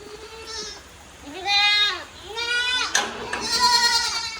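Goats and young kids on a farm bleat in three or four loud, wavering calls close by. The calls overlap toward the end as adult goats are mixed in with the kids.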